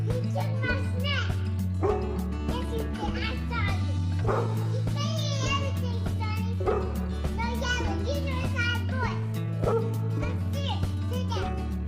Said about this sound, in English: both of her dogs freak out and start barking in disbelief